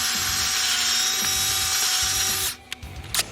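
A power drill grinds steadily as it bores out a bolt on a Cletrac roller, loud and close, then cuts off partway with a few brief metallic clinks afterward.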